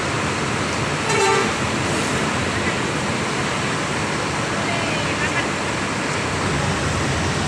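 A Rapi intercity bus departs from Palembang amid busy road traffic, giving a short horn toot early on over a steady wash of engine and roadway noise.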